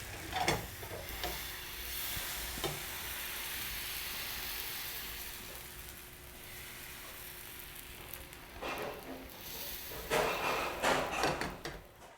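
Patishapta batter sizzles softly in an oiled griddle pan, a faint steady hiss broken by occasional clinks and scrapes of utensils nearby.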